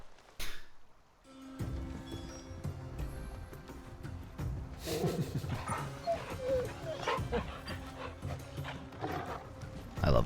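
A dog barks in the video game Final Fantasy XVI, with several clear barks over a steady bed of game ambience and movement sounds that runs for about ten seconds.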